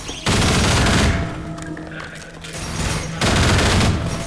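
Rapid automatic gunfire bursts loudly in Half-Life 2, two dense volleys separated by a quieter stretch of game ambience, close and harsh.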